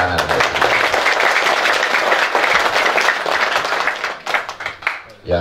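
A crowd at an evening community gathering bursts into loud, dense applause that carries steadily and then thins into scattered claps near the end.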